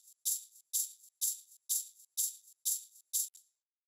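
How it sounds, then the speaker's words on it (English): A shaker sample with its low end filtered away, shaken in eight even, crisp high hissing strokes that each swell and fade quickly, heard alone and close. "I have a shaker here. Lower frequencies removed."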